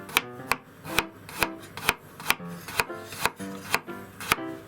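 A knife slices garlic in a steady rhythm, about a dozen crisp cuts against a board, close and clear.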